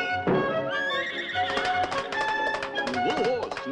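A horse whinnies loudly with a rising and falling cry, followed by the clip-clop of hooves, with a voice talking over part of it, in the cartoon The Underdog Show.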